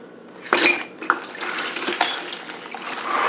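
Diesel pours out of a Ziploc bag holding old bearings into a metal container, a short splashing trickle with light metallic clinks from the bearings.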